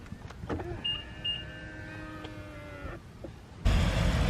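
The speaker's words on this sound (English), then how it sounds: "if you hold it down, as I just did, it folds in the mirrors" Power-folding side mirrors on a 2018 BMW X5M retract with a steady close electric motor whine lasting a few seconds, ending in a soft click before a louder burst of outside noise.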